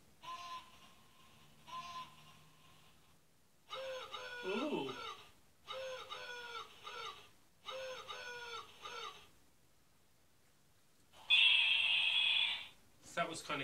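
Fluffy toy owl sounding off with a series of repeated electronic hoot-like calls in separate bursts, fairly clear and close, with short silent gaps between them and a final brighter burst.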